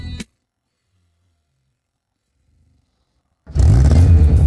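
An old, rusty car's engine catches and revs up loudly after a long stretch of silence, running as a dense, rough roar through the final second.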